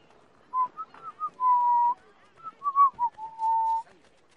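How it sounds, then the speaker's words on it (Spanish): A character in the video game Assassin's Creed 3 whistles a casual, meandering tune of short chirps and longer held notes, clear and close, with no talk over it. "Yo como que nada, pasé silbando."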